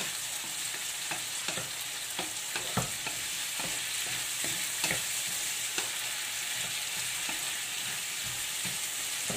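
Marinated meat for Filipino menudo sizzles in a hot pan, a dense steady crackle with scattered sharp pops and the scrape of stirring, close and continuous with no talk.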